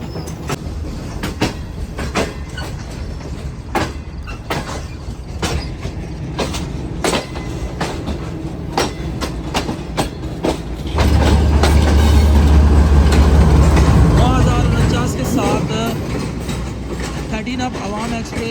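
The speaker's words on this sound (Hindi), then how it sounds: "हमारी ट्रेन ऐसा ऐसा रोड़ी जंक्शन में दाखिल हो रही है" The Shalimar Express rolls into Rohri Junction, wheels clicking in a steady clickety-clack rhythm, then swelling into a louder low rumble as it passes through. Someone talks over the train noise.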